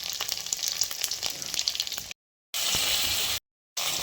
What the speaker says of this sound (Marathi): आपलं तेल गरम झालेलं आहे आपण जिरी मोहरी टाकून घेऊयात